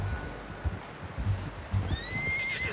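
A horse in the Red Dead Redemption 2 game lets out a high, drawn-out whinny near the end, with hoofbeats clopping in uneven steps underneath and a low rumble of background ambience throughout.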